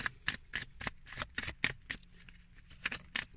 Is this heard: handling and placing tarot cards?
yes